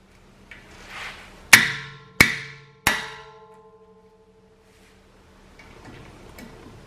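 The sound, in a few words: hammering with an impact driver and 4-pound sledgehammer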